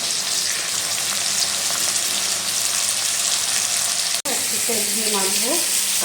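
Black cumin seeds sizzle loudly and continuously in hot frying oil for a fish curry, a dense close hiss that briefly cuts out, then resumes as a voice speaks over it.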